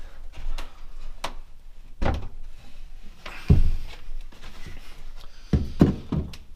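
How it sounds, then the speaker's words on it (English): A plywood cabinet door is taken off in a log cabin build, heard as scattered close wooden thunks, knocks and light taps, with a few heavier bumps amid quiet handling noise. "Just let me take this door off."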